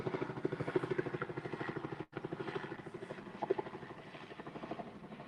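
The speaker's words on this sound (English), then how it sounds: "let that helicopter go over because I don't know if y'all can hear me" Helicopter passing overhead in rural Louisiana, a steady loud rotor thrum with rhythmic chopping pulses lasting throughout, briefly cut by a short dropout midway, with no talking.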